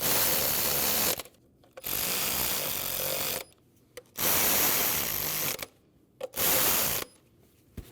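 A ratchet tightens 10mm bolts on a 2012-2016 Honda CR-V 2.4L four-cylinder, sounding as loud, dense bursts of clicking, each lasting one to two seconds and separated by short pauses, close up with no speech.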